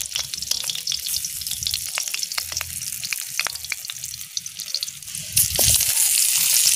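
Shallots and garlic fry in hot oil in a home Sundanese kitchen, a steady close sizzle with scattered pops and crackles that swells louder near the end, and one brief spoken word.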